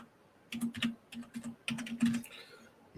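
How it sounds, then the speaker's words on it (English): Light tapping on a computer keyboard in short bursts of quick keystrokes, close and fairly quiet, with brief pauses between clusters. "I'm going to type it there."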